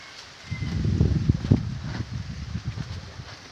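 Gusty wind buffeting and rustling outdoors, rising after a quiet start and roaring unevenly for a few seconds, with no voices.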